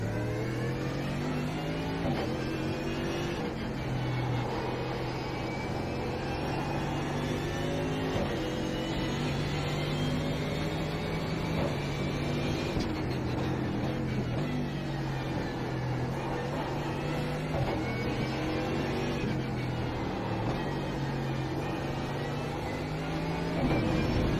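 A Porsche 911 GT3 Cup race car in the iRacing sim, its engine droning steadily through gear changes for a sustained stretch, loud and continuous with no talk over it.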